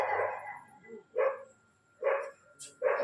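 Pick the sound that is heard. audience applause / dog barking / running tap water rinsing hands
dog barking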